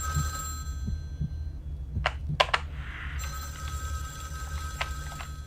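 In a video game, a telephone bell rings in a few short bursts against a steady low hum and scattered clicks, with no voices over it.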